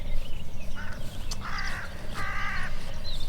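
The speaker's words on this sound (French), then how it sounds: "d'entendre les petits oiseaux en travaillant" Crows caw outdoors on a farm, a few harsh calls spaced apart over a constant background hum of the countryside, moderately close.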